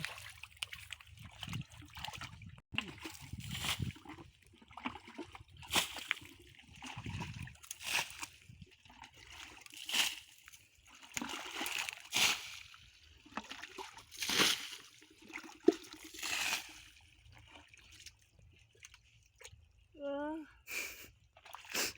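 Water splashes and trickles as someone gropes in muddy holes to catch eels while fishing in a shallow dry-season pond in rural Thailand, with irregular sloshes and dribbles heard under frequent nearby talk.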